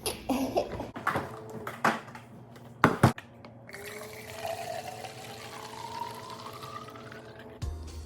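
Water pours into a bottle being refilled, with a few knocks and handling sounds at first, then a steady stream whose pitch climbs as the bottle fills, close and fairly quiet.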